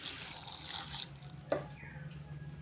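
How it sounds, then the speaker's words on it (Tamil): Water poured into a mixer jar holding ginger chutney ingredients, a soft trickling wash with a brief splash midway, recorded close and fairly quiet. "தேவையான அளவு தண்ணி ஊற்றணுங்க."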